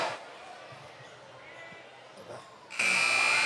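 A loud, steady electronic buzzer ends the third quarter of a high school basketball game, cutting in abruptly after quieter arena noise and a voice.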